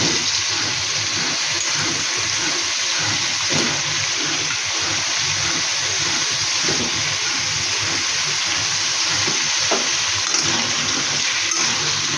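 Potatoes added to a pan already holding prawns fry with a steady, loud, broadband sizzle that holds evenly for the whole stretch, with no talking.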